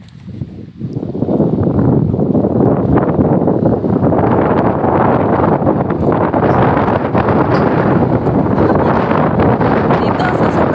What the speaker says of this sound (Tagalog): Dito, sa sobrang lakas ng hangin dito